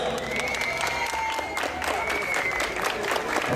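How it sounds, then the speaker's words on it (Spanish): Crowd applause at an awards ceremony for a champion women's football team, steady clapping with some crowd noise under ongoing talk over a loudspeaker. "Un aplauso para ellas."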